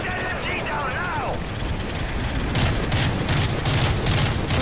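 Sustained machine gun fire in the video game Call of Duty: Modern Warfare, a loud, dense rattling barrage that grows heavier midway, with a brief rising electronic whine and battle noise throughout.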